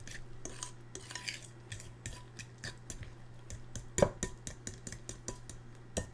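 A spoon mixing strawberry into cream cheese makes repeated quick metallic clicks and scrapes against a bowl, an irregular close tapping rhythm over a low steady hum, fairly quiet, with no talking.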